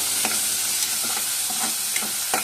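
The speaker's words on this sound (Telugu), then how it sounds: "వాటిని కూడా ఇలాగ నూనెలో వేయించుకోవాలి." Green peas frying in oil with softened onions and tomatoes for paneer pulao, a loud continuous sizzle broken by repeated spoon scrapes and clinks against the pan.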